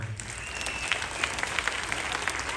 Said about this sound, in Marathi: हात वरती करून सगळ्यांनी जोरात टाळ्या वाजवा